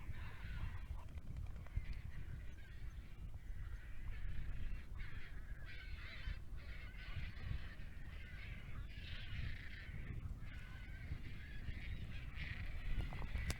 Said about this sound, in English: I don't know if the microphone picked up those birds